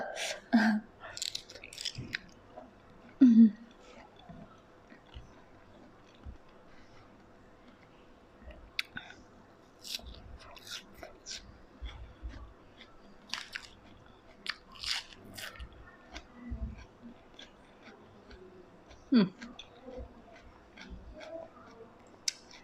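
Someone eats spicy pounded large shrimp with soft, chewy rice noodles and crunchy fresh vegetables, with close, crisp bites and wet chewing that come in irregular bursts with brief pauses, and no talking.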